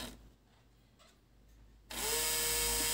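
A small electric motor driven by a light sensor circuit switches on after quiet handling noise, then runs with a loud, steady whine close by.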